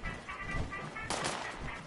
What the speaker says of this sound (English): I, uh, I hear gunfire.